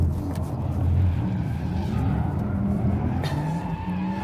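Porsche Taycan GTS Sport Turismo, an electric car with optional four-wheel steering, sliding sideways through a corner, a sustained rough tyre scrub and rumble with a faint whine, steady and fairly loud for several seconds.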